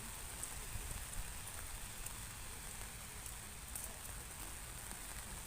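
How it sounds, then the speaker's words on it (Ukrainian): Steady, even patter of rain on an umbrella in a park, close and continuous with no voices. "Йдеш під парасолью, паде дощ."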